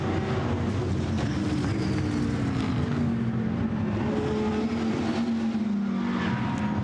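GT race cars, Ferrari and Lamborghini among them, race at Misano. A loud, steady engine roar runs throughout with slowly sliding pitch as the cars pass.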